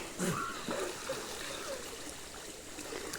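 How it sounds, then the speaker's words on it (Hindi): Water splashes and trickles steadily as two people bathe and take dips in a village river, with faint voices and occasional louder splashes as they move about in it. "ये नदी है हमारी, और यहाँ पे नहा रहे हैं ये दोनों डुबकी लगा चला"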